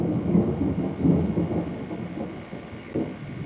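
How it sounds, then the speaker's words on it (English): Thunder during a storm: low, rolling rumbles swell and fade over a steady hiss of rain, fairly close and with no voices. "You're also listening to thunder."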